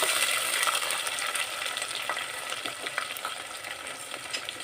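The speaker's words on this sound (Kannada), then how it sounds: "ಆ ಪೇಸ್ಟ್ನ ಈಗ ಹಾಕೊತಾ ಇದ್ದೀನಿ" Ground masala paste frying with fenugreek leaves in a pan for green chilli chicken gravy, a steady close sizzle with occasional stirring scrapes and clinks throughout, no talking.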